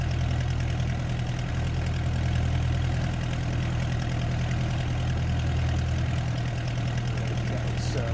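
Closed-throttle idle of a De Havilland Chipmunk light aircraft's piston engine in flight, a steady low drone with a constant rumble and wind noise throughout, loud and close.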